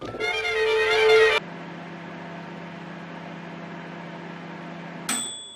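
Microwave oven heating Pop-Tarts: a brief burst of whirring noise, then a steady low electrical hum runs for several seconds until a bright beep ends it.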